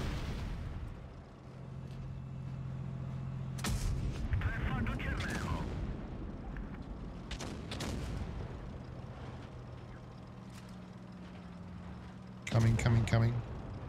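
Tank cannon shots in the World of Tanks Blitz mobile game, with a Centurion 5/1 tank in play: several sharp, loud blasts ring out over a steady engine drone while a player keeps talking.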